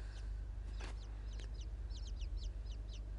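Chicks clucking in the video game Inside: a run of short, chirpy cheeps repeating at an uneven, quick rhythm over a steady low hum, with one brief louder call near the start.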